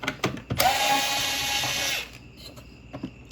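An electric screwdriver whirs steadily for about a second and a half, backing screws out of a rear panel on a ninth-generation Toyota Corolla's hazard button housing, framed by short clicks and knocks before and after.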